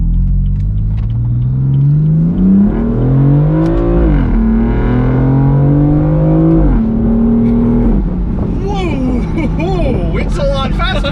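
A BMW M4 sports car accelerates hard on tarmac, its engine note climbing loud and close through rising revs, with a gear change and a fresh surge toward the end, while people talk over it.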